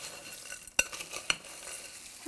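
Coconut sesame granola is tossed in a bowl, giving a soft rustling crunch with two sharp clinks of a utensil against the bowl, close by and with no voices.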